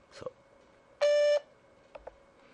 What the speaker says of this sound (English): Please leave a message after the tone.